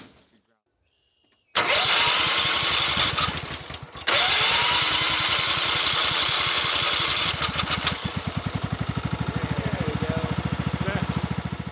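A hotwired tractor engine cranking on a low battery, a loud, steady, labored grinding churn that stops briefly, restarts and keeps turning over without catching, close by.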